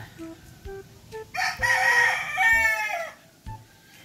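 A young gamecock stag crows once, loud and close, with a long drawn-out call. Soft clucks and farmyard noise come before and after it.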